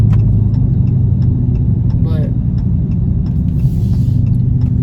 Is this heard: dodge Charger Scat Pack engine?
yes